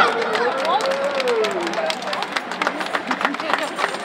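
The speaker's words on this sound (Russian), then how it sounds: "Аплодисменты, друзья!" Audience clapping at a drum show during a birthday celebration in Moscow: scattered, fairly close handclaps sound under a loud voice and crowd chatter, growing denser and more distinct in the second half.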